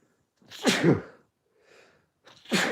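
A single loud sneeze up close, with a sharp inhale before it and a short breathy sound afterward.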